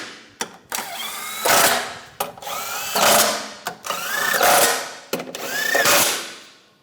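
A power tool runs in several short bursts, revving up and winding down, as it snugs bolts on the water pump of a 2009-2013 BMW 328i xDrive 3.0L inline-six, with ratcheting clicks between bursts.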